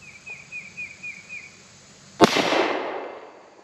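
A single sharp, loud gunshot from a Kel-Tec PR57 pistol at a shooting range, followed by a long decaying echo; quieter rhythmic chirping sounds come before it.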